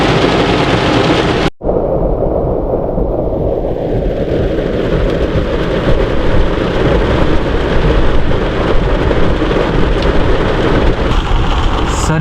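Heavy rain pours in Ooty in a loud, continuous roar, broad and steady, with a brief dropout near the start and deep rumbling underneath.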